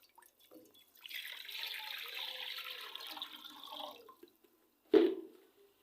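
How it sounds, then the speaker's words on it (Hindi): About a litre of water pours into a kadhai to begin maida halwa, a soft, steady splashing for around three seconds, followed by a single louder clank. "1 लीटर पानी डालेंगे।"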